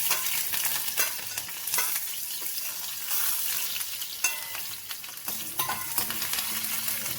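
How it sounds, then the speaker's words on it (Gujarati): Mustard seeds, curry leaves and chillies crackle and sizzle in hot oil for a Gujarati tempering, a steady close frying hiss with scattered sharp pops and spatters throughout, no voices. "તેલ આવી જાય એટલે આપણે રાઈ એડ કરી દઈશું, અને લીમડા અને મરચાંને વઘાર માટે એડ કરી દઈશું."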